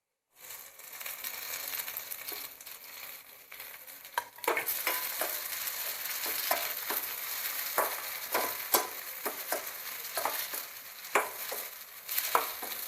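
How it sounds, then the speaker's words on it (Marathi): Onion sautéing for a black pea usal, first a soft sizzle, then louder frying with regular spatula scrapes and metallic clicks against the pan, close by and without talk. "कांदा सॉफ्ट होईपर्यंत परतायचा खूप लाल नाही करायचं आपल्याला"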